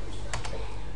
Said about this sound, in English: just start typing here